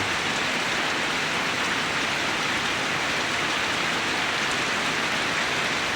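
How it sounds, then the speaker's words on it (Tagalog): Heavy rain pours steadily and densely, a constant loud hiss of drops with no pauses and no voices. "Walang tigil ang ulan."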